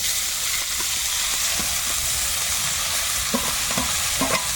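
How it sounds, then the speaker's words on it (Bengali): Greens and fried eggplant being stirred and fried in a pan: a steady close sizzle runs throughout, broken by several sharp scraping clicks of the spatula that cluster toward the end. "এবার আমি শাক আর বেগুন দুটোকে ভালোভাবে মিশিয়ে অল্প ভেজে নেব"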